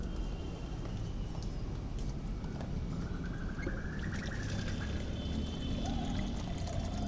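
Water poured onto garden plants outdoors, a steady trickling splash running through the whole stretch over low background rumble.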